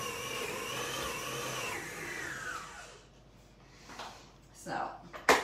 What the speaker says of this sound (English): My magic mixer has practically prepared my dough.